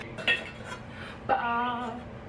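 Vanilla cake batter goes from a metal bowl into baking pans, with two sharp clinks of a utensil against the metal followed by a lingering ring, close and fairly quiet.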